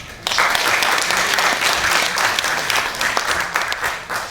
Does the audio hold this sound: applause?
yes